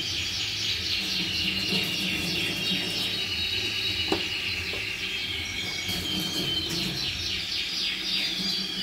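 Yorkshire canaries chirp and trill in a breeding house, many bright overlapping calls repeating throughout over a steady background hum, with a couple of faint knocks.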